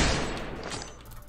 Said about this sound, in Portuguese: Eu vou trocar tiro, tá ligado?